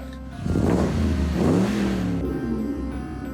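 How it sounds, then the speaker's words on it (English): A truck engine revs up loudly and close, a rising growl that swells and then holds at a steady roar before easing slightly. "Sounds like my truck."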